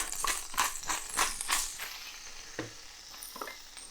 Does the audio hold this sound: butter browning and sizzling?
yes